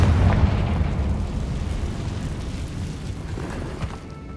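Confringo fire spell blast in the video game Hogwarts Legacy, a loud booming explosion that rumbles and slowly fades over several seconds, no speech.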